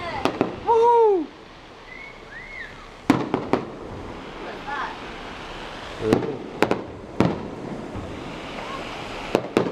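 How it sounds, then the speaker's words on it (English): Fireworks bursting over Bournemouth in July, a series of sharp booms and crackles spread across several seconds outdoors, with whistling rockets early on, people cheering nearby and a brief spoken exclamation. "Fireworks in Bournemouth."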